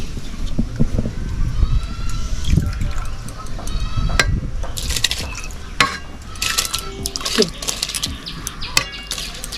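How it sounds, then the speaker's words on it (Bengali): Fried rice grains are poured into a pot of boiling salted water, giving bubbling, splashing and clinks of a utensil against the pot, close by, with some speech in the background. "জল ফুটে গেছে, এবার ভেজে রাখা চালটা দিয়ে দেব।"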